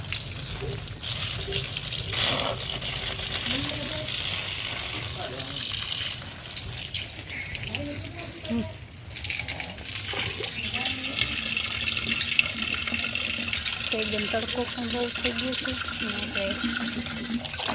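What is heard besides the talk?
water poured for watering trees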